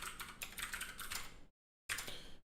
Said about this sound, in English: There's just a lot of typing to do with Vulkan.